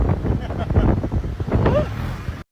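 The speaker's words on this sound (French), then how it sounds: "Assis à 200 sur un scooter." Wind roars and buffets the microphone on a scooter ridden at high speed, loud gusty rushing throughout, with voices shouting over it before it cuts off abruptly.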